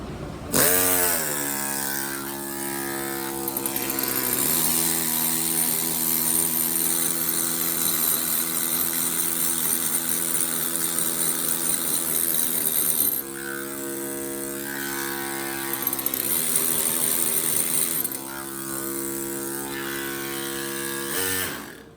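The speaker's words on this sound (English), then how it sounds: "grab my small drill and my pencil" A small power drill whines as it carves a life-size stone angel, running in long loud bursts with brief pauses between them and a sharp rising pitch at the start.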